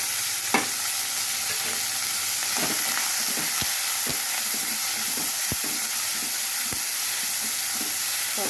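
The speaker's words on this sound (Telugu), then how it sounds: "ఇప్పుడు పచ్చిమిరపకాయలు, ఉల్లిపాయ, కరివేపాకు వేసేద్దాం." Green chillies, onion and curry leaves hit hot frying oil, giving a steady, dense sizzle with scattered sharp crackles and pops, close and alone throughout.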